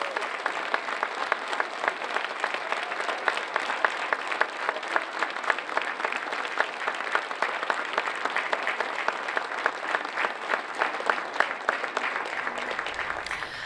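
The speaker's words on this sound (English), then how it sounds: "can you please join me in putting your hands together in uproarious applause for our first 14 inductees" A business Hall of Fame ceremony audience gives sustained applause for inductees, a dense, even roar of many hands clapping that continues for over ten seconds before tapering at the end.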